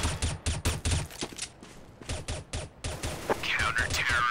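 Rapid bursts of gunfire in the tactical shooter CS:GO, loud and close, with several quick volleys of shots separated by brief pauses and a voice talking faintly underneath.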